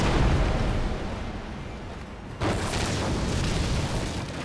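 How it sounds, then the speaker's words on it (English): Grenade blasts in Orcs Must Die 2 come as dense, booming explosive bursts, with a sharp louder blast about midway through and continuous rumbling layered throughout the clip. "that grenade is pretty damn nice"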